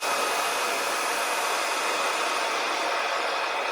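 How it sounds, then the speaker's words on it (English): A hair dryer blows with a steady, loud, broadband whoosh, running continuously without pause and with no talking, used to thaw a cold milking machine. "come get my hair dryer out of our bathroom in order to thaw out the machine"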